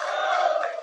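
A crowd at a gathering in Keningau roars and cheers in one brief, loud burst of massed voices.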